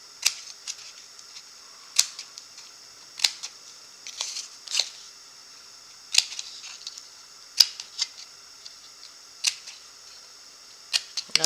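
Scissors trim notches in a small cardboard coffeemaker model, giving sharp, crisp snips in an irregular series. The cuts come close and alone, with brief quiet gaps between them.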